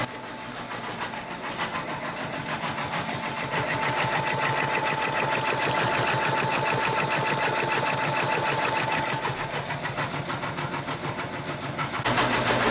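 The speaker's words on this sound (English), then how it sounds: "I've got a blue hat now ready to go onto the embroidery machine with the design right up there." An embroidery machine stitches a design onto hats, a steady, loud, rapid mechanical chatter that runs continuously in a noisy workshop, with no speech.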